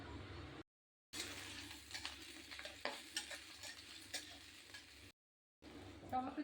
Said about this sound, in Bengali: তেল গরম হয়ে গেছে, এবার পেঁয়াজগুলো দিয়ে দেবো।